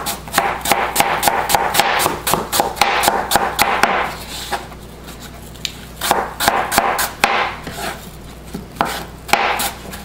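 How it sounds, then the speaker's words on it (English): A knife slicing an apple on a cutting board for apple pie: quick, even rhythmic chops close up in two runs separated by a short pause, then a few slower cuts. "Then you're going to slice it."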